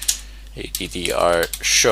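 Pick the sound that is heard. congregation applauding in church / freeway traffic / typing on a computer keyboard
typing on a computer keyboard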